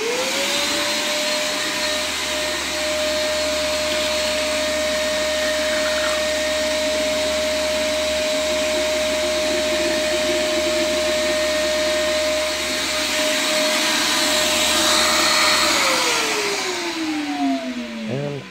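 A shop vacuum sucking coolant out of a Mercedes W203 with an M111 engine and a blown head gasket whines steadily at a constant pitch, then spins down near the end as it shuts off.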